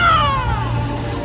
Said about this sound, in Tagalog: Naku, pusa, baka saksakit tayo nun.